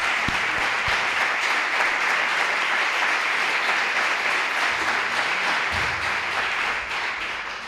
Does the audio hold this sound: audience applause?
yes